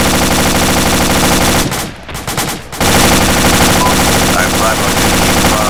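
Loud, sustained machine gun fire in a military video game, near and dense, with a brief lull before the bursts resume, and no clear talk over it.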